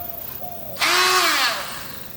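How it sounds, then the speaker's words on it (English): A Dremel rotary tool fitted with a small grinding disc bites into metal on a Silverado twin-turbo build, making a sudden loud, close, high whine that lasts under a second before easing off into a softer hum. "Dremel, and I got like a little grinding disc that I can probably grind it with"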